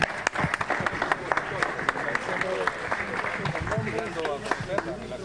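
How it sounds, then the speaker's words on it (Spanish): Applause for newly named government ministers at a formal announcement of the cabinet, crowd clapping in a large hall, moderately loud with sharp individual claps over a steady wash, mixed with voices and crowd murmur. "Un aplauso para ellos."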